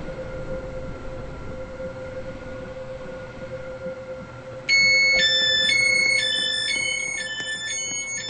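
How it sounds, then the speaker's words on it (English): A video-game train hums steadily at Platform 8, then a bright electronic chime sequence plays, loud and clear over the rumble. "The train now approaching Platform 8 terminates here."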